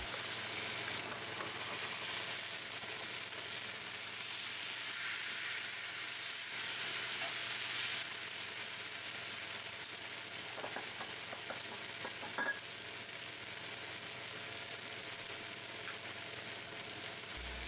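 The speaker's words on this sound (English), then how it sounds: "After mixing in the shallots and garlic, we add the mustard and Worcestershire sauce and add mushrooms to the pan." Mushrooms, shallots and garlic fry in a pan with mustard and Worcestershire sauce for a steak Diane sauce, a steady close sizzle with occasional stirring scrapes, and no talking.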